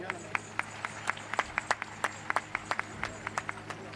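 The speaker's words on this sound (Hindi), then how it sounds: "मैं हाउस से चाहूंगा कि तालियां बजा करके आपका स्वागत करें।" Sparse, irregular handclaps from an audience welcoming the yoga guru Swami Ramdev at a youth and student camp in Jaipur, Rajasthan. The claps are scattered and fairly distinct rather than a full ovation, over a low steady hum.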